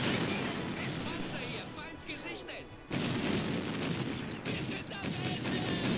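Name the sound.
gunfire from advancing units in video game Blitzkrieg 2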